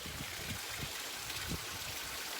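A small water stream beside a hiking trail on Namunukula mountain flows and trickles in a steady, faint wash, with no voices over it.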